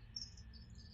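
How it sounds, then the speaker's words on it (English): Crickets chirping indoors, a faint high steady trill with a brief louder burst near the start, over a low background hum. "It's crickets."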